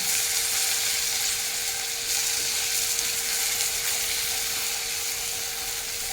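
Spices, chili powder and diced tomato frying in a pan for a Bengali egg curry, a loud, continuous close sizzle and hiss that holds steady throughout.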